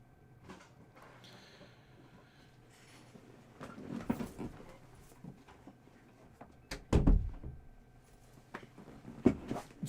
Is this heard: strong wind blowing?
no